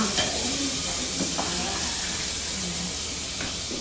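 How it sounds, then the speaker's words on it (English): Onion dropped into a pan of sizzling garlic and bacon, giving a loud, dense, continuous frying hiss close by with faint stirring and clatter underneath. "Now you add your onion."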